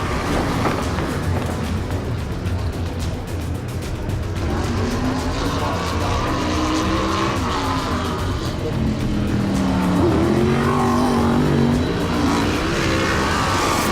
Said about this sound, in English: And the first car is on the racetrack